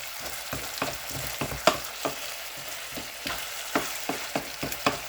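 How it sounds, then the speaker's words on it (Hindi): Chicken with spices is stirred in a frying pan for white chicken ginger karahi, making repeated close spoon scrapes and clacks in an uneven rhythm over a low, steady sizzle. "अच्छी तरह मिक्स कर लेंगे इस हद तक कि सारा मसाला जो है गोश्त के साथ चिमट जाए।"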